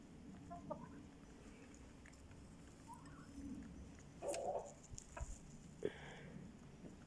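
Chickens clucking outdoors while being fed rice, with a few short, scattered clucks and calls over a steady low background rumble, moderately distant and fairly faint.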